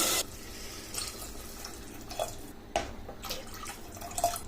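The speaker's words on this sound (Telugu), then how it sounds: "ఇలా మొత్తం 4 కప్పుల వరకు అయితే నీళ్ళు వేసుకోవాలి." Water poured into a cooking pot holding two cups of rice, about four cups in all: faint running and dripping water with a few soft splashes, close by and quiet, with no talking.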